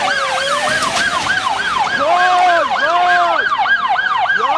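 A loud wailing ambulance siren in Tehran, Iran sweeps up and down rapidly, with a second lower siren tone joining in, close and continuous.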